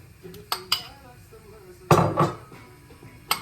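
Chopped onion and potato go into a pot after deglazing for a pea and chicken wing stew, with a few sharp metallic clanks and a louder clattering burst as they are tipped in and stirred.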